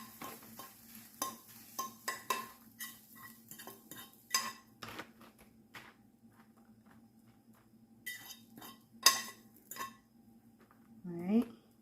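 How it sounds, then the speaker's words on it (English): Eggs go on top of tater tots in a pan for a cheesy breakfast, with scattered clinks of utensils against cookware, scraping stirs and a faint sizzle under quiet talk. "I'm gonna be adding the eggs on top of the tater tots"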